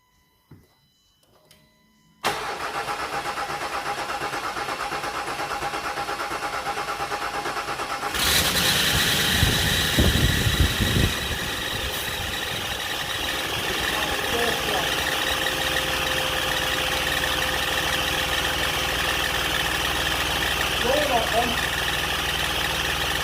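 A Range Rover Sport 3.0 TDV6 diesel engine cranks, fires and settles into a steady idle, loud and close, with the running engine continuing for about fifteen seconds.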